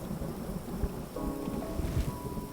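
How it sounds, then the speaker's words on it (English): Thunder rumbles through a rainy VR fishing game scene, a steady low roar with rain texture and faint tonal game sounds drifting in partway through; no one speaks. "The loud thunder."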